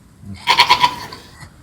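A goat lets out one wavering, pulsing bleat, fairly close and clear, over a quiet background.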